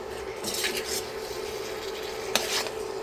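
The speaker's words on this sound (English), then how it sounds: "I'm going to cook this for about a minute or 2 until my green peppers has softened" Green peppers cook with beef in a pan, a soft steady sizzle with occasional stirring scrapes and one sharp utensil tap, close and fairly quiet, no talk.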